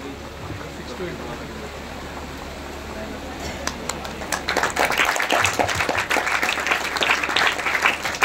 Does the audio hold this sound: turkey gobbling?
no